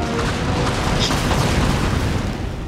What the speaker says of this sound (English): Those 18-pound cannons are firing into the line.